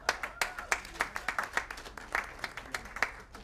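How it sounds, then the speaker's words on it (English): A round of applause at a black-tie charity dinner auction greets a winning bidder, with a moderate burst of hand clapping from a seated audience. The claps are irregular and overlapping and fill the clip, with faint voices beneath. "Give him a round of applause."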